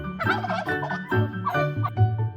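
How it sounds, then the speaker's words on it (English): A farm turkey gobbles in a rapid, warbling burst, loud and close, the rattling calls repeating several times with no voices. "turkey,"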